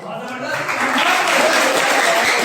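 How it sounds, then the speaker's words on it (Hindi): Crowd applause swells at a college freshers' party, a dense wash of clapping that builds and holds steady, with voices mixed in. "अगर आप लोगों को अच्छी लगे तो तालियां बजाइएगा"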